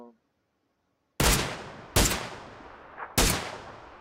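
Long-range gunshots in a shooter video game: three sharp, loud cracks spaced under a second apart, each trailing off in a decaying echo, after a near-silent start and with no voices.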